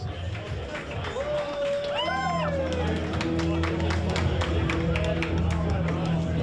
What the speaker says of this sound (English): Let's make some noise, Brisbane.